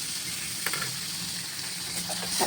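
Half a kilo of chicken drops into hot frying masala for a spicy chicken curry, setting off a loud, close, continuous sizzle with faint stirring scrapes and no talking.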